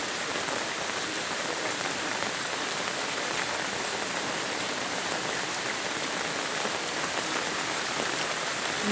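Steady rain pours onto garden plants, tulsi among them, a dense even hiss of drops on leaves that holds unbroken and fairly loud throughout, with no voices.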